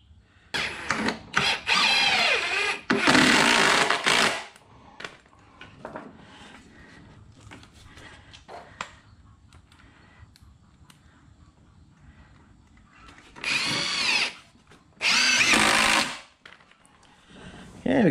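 A power drill drives screws into a garage cart built on a furniture dolly, with several loud close bursts of whining drill motor separated by quieter stretches of handling noise and speech.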